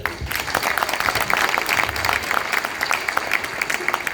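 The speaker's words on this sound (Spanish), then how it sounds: "Un aplauso para él." An audience at a cosmic enigmas and mysteries congress in 2023 applauds to welcome an interpreter, a steady burst of dense clapping that fills the hall at moderate loudness throughout.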